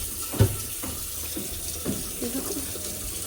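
Tap water runs steadily in a kitchen sink, a continuous close hiss with a few faint clunks and a brief bump near the start.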